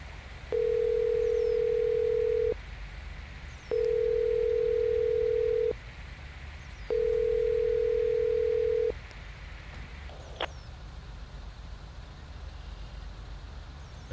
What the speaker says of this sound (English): let's try ringing these internal phone lines and see if we can get negotiations and dialogue open